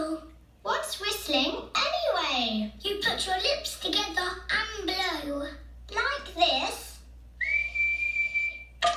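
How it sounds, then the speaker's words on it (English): Children chatter back and forth, then a single sustained whistle tone sounds near the end, clear and steady. "I'm learning to whistle."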